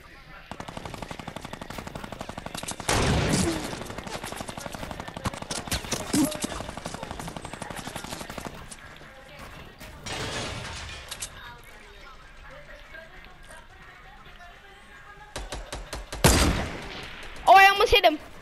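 Automatic gunfire in a shooter video game, several loud sustained bursts spaced through the stretch with quieter sporadic shots between, and players talking over it.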